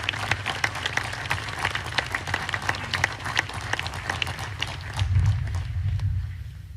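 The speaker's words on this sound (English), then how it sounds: "please join me in a round of applause for our faculty award recipients" Audience at an Army War College ceremony applauds faculty award recipients, a steady, fairly close round of many hands clapping that carries on for several seconds with a low hum underneath.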